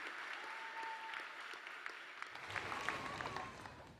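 Applause from a crowd at a high school commencement honouring graduating students, a steady, even patter of many hands that swells slightly toward the end.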